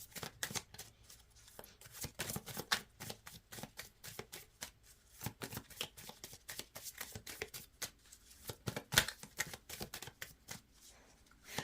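Chakra cards shuffled by hand over and over, a rapid run of crisp riffling slaps and paper flutters repeating in quick bursts, close and clear with no talking.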